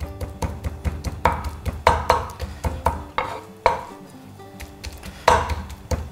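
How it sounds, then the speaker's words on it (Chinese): Shrimp pounded with the back of a kitchen knife on a cutting board: a series of irregular, sharp knocks, close and moderately loud, with short pauses between groups. "我们用刀背稍微给它捶一下"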